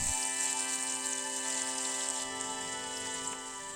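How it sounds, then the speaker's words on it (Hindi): Paneer frying in a little hot oil in a kadhai for palak paneer, a dense continuous sizzle and crackle close up, steady throughout with no voices. "कढ़ाई में थोड़ा सा तेल गरम करके इसमें पनीर को फ्राई कर लेंगे।"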